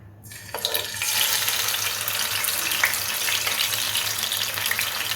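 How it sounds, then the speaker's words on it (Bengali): Koi fish drop one by one into hot oil in a pan and set off a loud, steady, close sizzle that swells within the first second and carries on crackling without any talking. "তেলটা গরম হয়ে গেছে এবার এক এক করে আমি মাছগুলো ভেজে নেবো"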